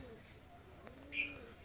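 Pigeons in a loft on a sunny day, soft low cooing drifting in faintly with a brief brighter call near the end and quiet background around it.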